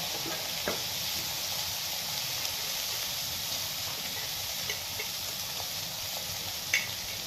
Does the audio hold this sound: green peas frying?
yes